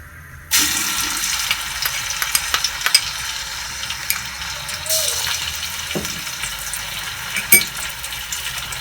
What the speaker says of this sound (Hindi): अदरक लहसुन को हम फ्राई करेंगे।